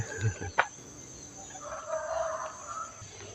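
Chickens heard faintly outdoors at a temple in Lampang, Thailand, with a short cluck and a more drawn-out crowing call, without speech.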